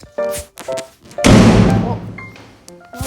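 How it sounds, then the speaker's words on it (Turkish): A trash can gives a heavy thud with a short rumbling tail in the video game Bunny Tale. It lands in the middle of the clip, between bursts of someone talking. "bu kadar ses çıkar mı çöp kutusundan?"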